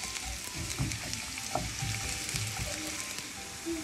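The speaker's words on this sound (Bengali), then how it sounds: "এবার তেলটা হালকা গরম হলে পেঁয়াজ আর রসুন" Onion and garlic fry in lightly heated oil, a steady close sizzle with soft crackles and a few clinks of a spoon against the pan, no voices.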